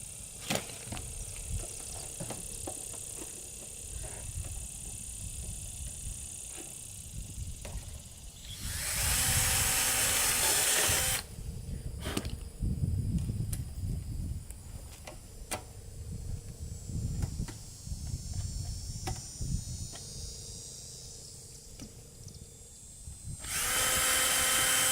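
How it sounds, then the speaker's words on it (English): Power drill boring a hole through the side of a homemade fruit picker part, with loud sustained drilling bursts around the 9–11 second mark and again at the end, separated by quieter handling and clicking. "I'm going to drill a hole straight through this side"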